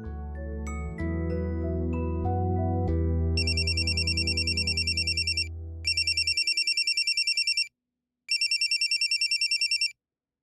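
A phone rings with an electronic ringtone, loud and close. A melodic tone with a low backing fades out, then a high, rapid trilling ring comes in three bursts separated by short gaps.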